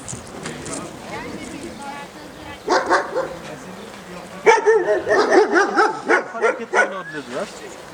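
A dog barks and yips in short bursts during a social temperament test, the bursts growing louder and more frequent in the second half, with people talking nearby.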